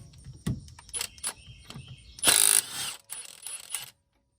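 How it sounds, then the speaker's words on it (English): A ratchet works loose the 22mm harmonic balancer bolt on a 2007-2011 Kia/Hyundai 2.0 engine, giving sharp clustered clicks in irregular bursts and a longer buzzing run mid-clip, close and alone. "is remove the harmonic balancer bolt, which is a 22mm."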